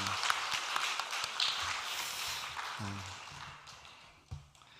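A church congregation applauds together, a steady wash of clapping that gradually thins and fades toward the end.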